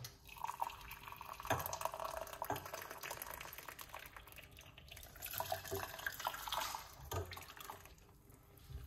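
Hot water pours for moringa tea, a quiet, continuous trickle and splash lasting several seconds, faint and close with no talk over it.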